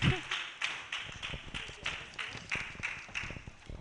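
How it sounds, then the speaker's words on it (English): Handclaps from an audience come in a regular, fairly slow beat as a woman walks forward, moderately close, with a faint voice underneath. "Round of applause as she makes her way forward. You guys should clap"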